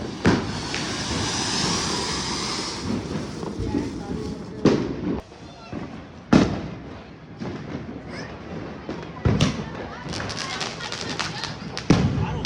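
Firecrackers bursting at a Diwali celebration, a series of sharp loud bangs at irregular intervals, some close and some farther off, with crackling tails and people talking in between.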